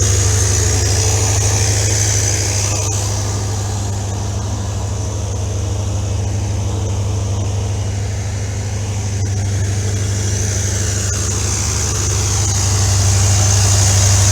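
A 1984 Chevrolet C4 Corvette engine idling steadily up close, a loud, even low rumble with a constant hum that barely changes over the whole stretch.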